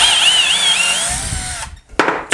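A Milwaukee M12 drill whirs at high speed as it backs a lag bolt out of wood, a loud, steady whine that slows and cuts off, followed by a short final burst.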